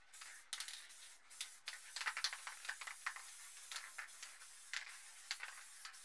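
Short hissing bursts from a spray paint can sprayed lightly around a lid stencil, close and fairly quiet, with rattly pauses between the repeated puffs.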